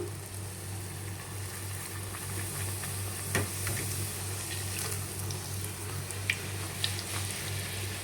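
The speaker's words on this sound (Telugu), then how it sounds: "ఆయిల్ కూడా వేడెక్కిపోయింది ఇప్పుడు పూరి అయితే వేసేసుకుందాము" Puris frying in heated oil in a village-style home kitchen, a steady low sizzle and bubbling hum throughout with a few faint clinks, moderately close and without talk.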